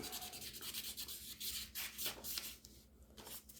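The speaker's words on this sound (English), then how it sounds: "take a piece of 3000 grit sandpaper and just clean that up" Fine 3000 grit sandpaper rubbed over surface rust on a 1950s cast iron baseboard hot water radiator's push nipple, soft rapid back-and-forth scrubbing strokes, close and quiet.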